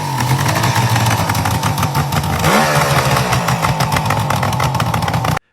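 A classic Suzuki GT750 motorcycle, sold in ready-to-ride condition, running close by with a loud, steady engine drone and a brief rise in revs midway before cutting off abruptly.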